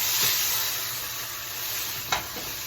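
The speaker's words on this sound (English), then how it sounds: "I'm going to turn that roast over to the other side" A pork roast sears in a hot pan, giving off a loud, even hiss of frying fat with a short bump as the meat shifts partway through.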